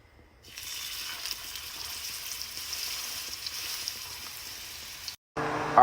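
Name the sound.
seasoned steak frying in avocado oil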